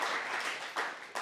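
A faint, brief burst of clapping from an audience at a university pitch night and showcase thanking sponsors, soft and distant with a couple of sharper claps standing out.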